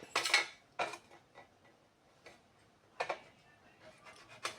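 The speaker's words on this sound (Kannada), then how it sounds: "ಈಗ ಇದನ್ನು ಚಿಕ್ಕದಾಗಿ ಕಟ್ ಮಾಡ್ಕೊತೇನೆ." A knife cutting nutmeg rind into small pieces, heard as a few sharp, separate clicks and taps on a board with brief pauses between them, near and fairly quiet, with no talk.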